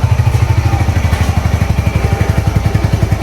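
A motorcycle engine on bad gasoline revs loudly and close by, a steady rapid pulsing drone with mechanical clatter throughout, no voices.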